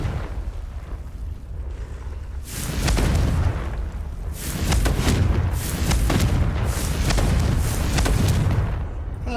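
Confringo fire spells in Hogwarts Legacy go off as a series of heavy, rumbling blasts in overlapping bursts, loud and close, over faint game ambience.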